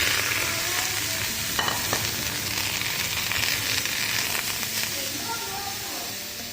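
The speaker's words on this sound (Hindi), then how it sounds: "अब ये तवे के ऊपर हम इस चिकन को फैला देंगे" Chicken sizzles and fries in a steady, soft hiss on a tawa over a low gas flame, with a few faint clinks and scrapes on top.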